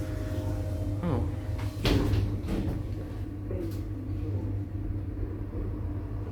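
A KONE hydraulic lift at a hospital car park in Brisbane hums low and steady as it moves, with a clunk and rumble partway through and faint mechanical creaks around it.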